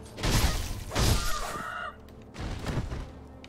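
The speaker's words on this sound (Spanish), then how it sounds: "¡Madre de Dios, pedazo gallo!" A rooster in the video game Sekiro: Shadows Die Twice lets out loud, harsh squawks and clucks in a couple of bursts, up close amid game background noise.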